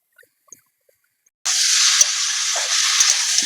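Ginger, cumin and green chilli paste hits hot oil with a sudden loud sizzle after a quiet start, then fries steadily with a bright crackling hiss and occasional stirring for fish curry.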